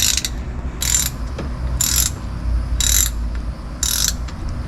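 Repeated ratcheting clicks in five even bursts, close and clear, as a screw is worked loose on a 2022 Sea-Doo GTI SE personal watercraft during an oil change, with low mechanical rumble beneath.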